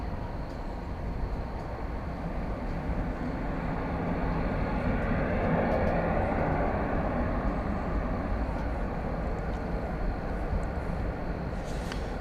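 A Spirit Airlines Airbus A321 arriving at DFW Airport from Fort Lauderdale, heard as a distant, steady engine rumble that swells slightly in the middle before easing off.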